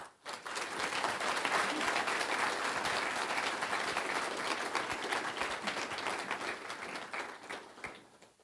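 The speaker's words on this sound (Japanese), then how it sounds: "皆様どうぞ檜垣様のご登壇を拍手でお出迎えください" An audience at a special lecture at Ehime University applauds to welcome the president of Imabari Shipbuilding. The applause swells quickly into a full, steady round of many hands, holds for several seconds, then tapers off.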